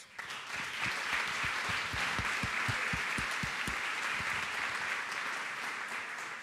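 Audience applause at the opening of a symposium on web series, a sustained roar of many clapping hands with a few sharper, nearer claps standing out early on, held steady for over six seconds.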